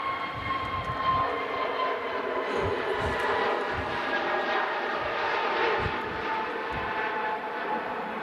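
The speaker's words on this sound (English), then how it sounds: "British Airways 21 Neo heading back to London Heathrow." A British Airways Airbus A321neo jet departs Manchester Airport with a steady, fairly distant engine roar and whine that holds throughout the clip.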